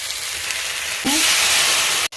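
Ground turmeric, chili, coriander powder and salt dropped into hot oil with five-spice and chopped onion for a country chicken curry, a steady close sizzle that jumps louder as the spices hit, with a brief clink.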